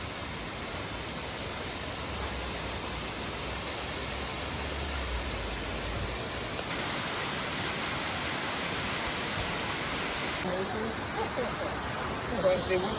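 A waterfall in Sequoia and Kings Canyon roars as a constant broadband rush, steady and close, with a voice faintly present under the noise.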